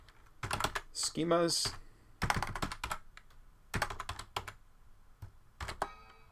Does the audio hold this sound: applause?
no